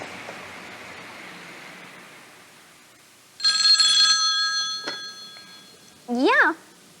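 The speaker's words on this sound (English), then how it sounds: "Little does Burton Bughouse realize he's about to receive a phone call" A telephone rings with a bright electronic trill in a sustained burst after a quiet hissy stretch, then a short warbling electronic chirp follows near the end.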